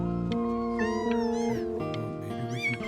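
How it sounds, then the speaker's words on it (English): A cat meows in the video game Before Your Eyes, a couple of rising meows over a sustained musical background, no talking. "I really can't have 5 cats around the house."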